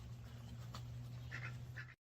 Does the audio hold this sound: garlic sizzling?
no